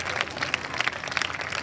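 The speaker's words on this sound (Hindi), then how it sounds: "बच्चे दोनों हाथ ऊपर करेंगे और खूब जोर से तालियां बजा के उत्साहवर्धन करेंगे" Children at the closing ceremony of the 53rd KVS National Sports Meet applaud the champions, a dense, steady wash of many hands clapping from a sizeable crowd, moderately loud and continuous with no talk over it.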